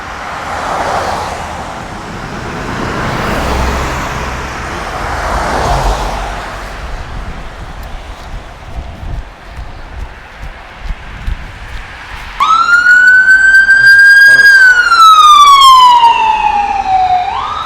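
Steady traffic rumbles along one of Miami Beach's extremely busy main roads, then a loud siren wails close by near the end, rising and falling above the vehicle noise.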